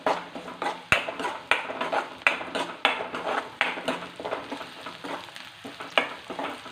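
Green chillies and curry leaves sautéing in a pan, with a steady close sizzle and rhythmic scraping and clinking of a spoon stirring against the pan, no talk.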